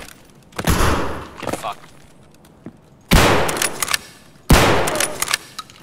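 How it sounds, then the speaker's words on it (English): Three loud, close shotgun blasts from TOZ shotguns in Escape from Tarkov, the first before a pause and two more in quick succession near the end, each with a long ringing tail. Someone speaks briefly between them. "Oh, we're both using TOZs."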